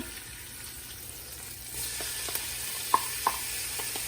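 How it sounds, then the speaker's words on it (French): Onions and garlic fry in a pan, a faint, steady sizzling hiss with a few small pops and crackles, close and alone. "je vais commencer par faire revenir les oignons"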